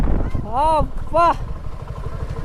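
A Suzuki motorcycle on a test ride at a Suzuki event rumbles steadily and close up, with two brief rising-and-falling tonal swells over the low engine drone.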